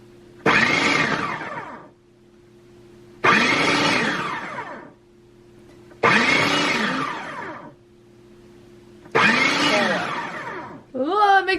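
A food processor pulses cold butter into dough in four separate bursts of whirring motor noise, each about a second and a half long, loud and close, with silence between pulses.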